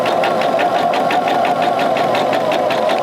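A sewing machine stitches a mitered border seam at a short stitch length, close and loud, its needle thumping in a fast, even rhythm with no talk.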